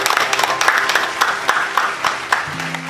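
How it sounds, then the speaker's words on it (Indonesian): A short burst of clapping from a children's church service, brisk and fairly close, lasting only a few seconds with a faint tone lingering underneath. "Kasih tepuk tangan yang meriah untuk Tuhan."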